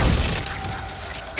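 A Glacius ice spell bursts with a brief crackling shatter at the very start, then fades into a soft airy hiss of magical fantasy game ambience.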